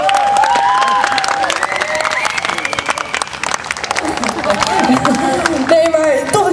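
A concert audience claps and cheers for a band opening an outdoor summer festival set. The applause is loud and sustained, with whoops and crowd babble, and sustained tones sound over it.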